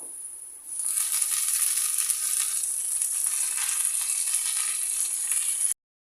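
Jute greens drop onto onion and garlic already fried red in hot oil, setting off a loud, steady sizzle that starts abruptly and holds evenly until it cuts off.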